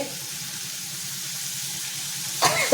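Cleaned prawns go into sizzling masala in a pan; a steady frying hiss runs throughout, then a sudden louder burst of sizzle breaks out near the end as they land.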